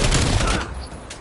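Shotgun blasts in a video game ring out close and loud in a quick cluster of heavy booms, then fade into a softer rumble within about a second.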